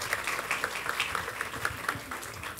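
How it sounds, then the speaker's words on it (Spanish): Audience applause at a Spanish-language event honoring the organizing committee: steady, dense clapping from a crowd filling the whole moment, moderately loud and without speech. "Hay que brindarles otro fuerte aplauso, por favor."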